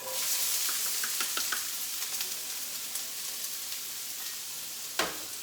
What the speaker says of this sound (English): Then I'm going to add my cup of onions.